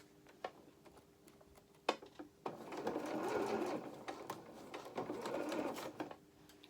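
Domestic sewing machine stitching fabric for a small rabbit doll's coat, running in two short bursts separated by brief pauses for pulling pins, with soft ticks and handling noises between runs, close by.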